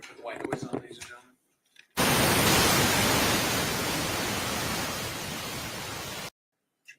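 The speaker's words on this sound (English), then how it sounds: "White noise on, ladies and gentlemen." White noise switched on in a courtroom, a loud steady hiss that starts abruptly after brief talk, holds for about four seconds, then cuts off suddenly.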